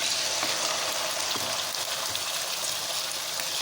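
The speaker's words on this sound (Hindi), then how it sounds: "चिकन को हम 2 से 3 मिनट तक अच्छे से फ्राई करेंगे।" Chicken fries in a pan with bay leaves and black pepper, giving a steady, even sizzle of hot oil throughout, close and constant with no voices.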